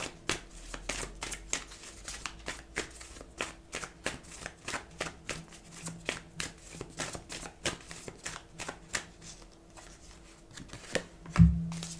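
Oracle card deck being shuffled by hand, a long series of crisp riffling bursts repeating at a quick, fairly regular rhythm, close and clear, with a louder knock near the end.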